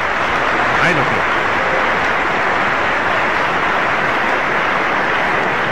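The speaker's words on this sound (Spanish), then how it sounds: "Vamos a darle un aplauso." Studio audience applause for a guest on a 1972 Mexican television quiz show, a dense steady wash of clapping that runs loud throughout, with a faint voice briefly audible near the start.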